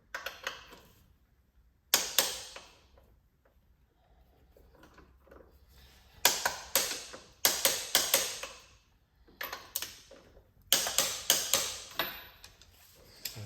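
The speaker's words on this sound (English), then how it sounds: "Got my torque wrench set to" Torque wrench tightening engine mount bolts on a VW MK7, heard as sharp ratcheting clicks in several separate bursts with quiet gaps between them, close and fairly loud.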